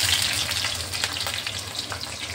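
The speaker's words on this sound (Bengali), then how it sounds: "ফোড়নে দিয়ে দিচ্ছি কালো জিরে আর কাঁচা লঙ্কা।" Nigella seeds and green chillies fry in hot oil in a kadai, giving a steady, close sizzle and crackle that runs without a break and with no voices.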